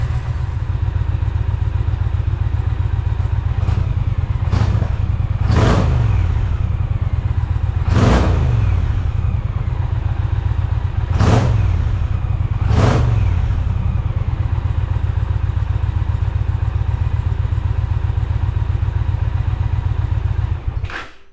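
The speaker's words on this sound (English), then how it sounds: "Give it a few throttle snaps, and yeah, let's see what it sounds like." An Indian Challenger motorcycle with a Freedom Performance exhaust idles with a deep, steady rumble, broken by several sharp throttle snaps that surge and fall back, loud and close with no talk.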